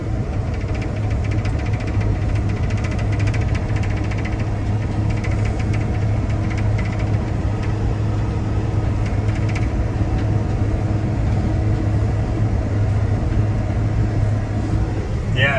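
Newly installed engine running steadily under load while pushing a plow, a constant low droning rumble with faint knocking texture throughout, with people talking over it at times.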